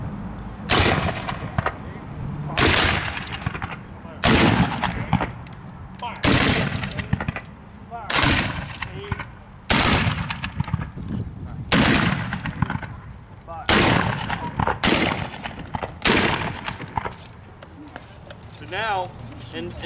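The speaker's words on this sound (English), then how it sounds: "Fire by files from the right. Fire by files from the right. Commence. Fire." Musket volleys fired by files at a military history reenactment in Gordonsville, Virginia: about a dozen sharp, loud cracks spaced roughly every one to two seconds, with someone shouting commands between and under the shots.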